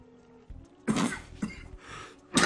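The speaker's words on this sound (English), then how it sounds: "Dang it, I thought I was over that cough." A person at a game session coughs close to the mic, several rough, throaty bursts over a couple of seconds, the last one loud and harsh.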